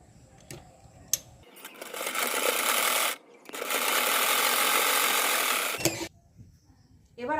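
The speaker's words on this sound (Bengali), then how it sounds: "এবার আমি সেলাই করছি, দেখো" A sewing machine stitches a blouse in two steady, loud mechanical runs of rapid whirring and clattering, separated by a short pause, with quiet handling sounds before and after.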